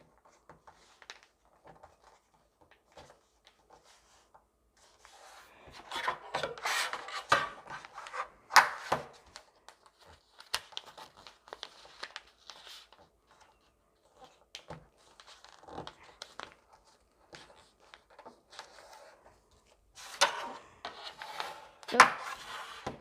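Paper is folded into a long-distance paper airplane at close range, with bursts of rustling, creasing and rubbing separated by quiet pauses, loudest in the middle and near the end.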